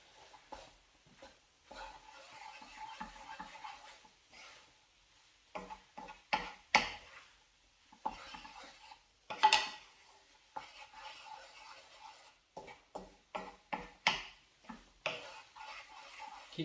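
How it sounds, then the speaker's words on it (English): Tofu scramble being stirred in a pan, soft scraping and tapping of a utensil against the pan in irregular bursts with faint sizzling, quiet and close, with pauses between strokes. "Keep stirring until it's nice and evenly yellow."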